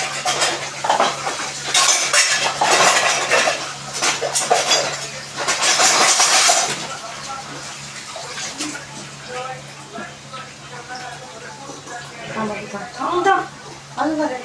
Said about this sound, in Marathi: आता मी फ्राय करून घेते बाजूला.